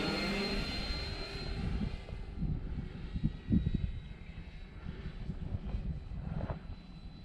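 A propeller airplane, the Draco, climbs away after takeoff with its flaps being raised; a steady, loud engine drone fills the cockpit without a break, with low rumbling buffets and no talk.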